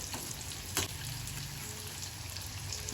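Taro root fries in a pan with an even, close, crackling sizzle throughout and one sharp stirring clink near the start.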